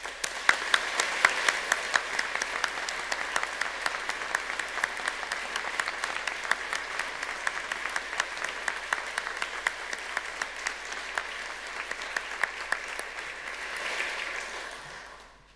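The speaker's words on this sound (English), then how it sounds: "Please join me in giving these graduates a warm round of applause." A large graduation ceremony audience applauds the new graduates of the School of Arts and Cultures and the School of Architecture, Planning and Landscape. Sustained, dense clapping runs for about fifteen seconds, swelling briefly near the end before fading out.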